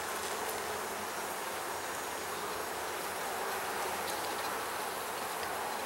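Dense, steady buzzing of honeybees swarming over an open hive, a continuous close-up insect hum filling the whole stretch with no break.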